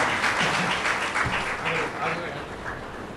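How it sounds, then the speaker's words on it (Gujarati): An audience at a motivational talk on passing GPSC-UPSC exams breaks into dense, sustained clapping, with a voice heard over the applause. "આપણે સૌ તાળીઓના ગડગડાટ કરીએ"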